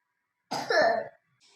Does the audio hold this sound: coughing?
yes